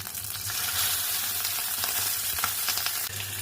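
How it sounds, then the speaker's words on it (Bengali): Patoori parcels fry in hot mustard oil, giving a steady close sizzle with light crackling and a faint low hum under it, with no talking. "পাতুরিগুলো দেখো ভাজা হয়ে গেছে,"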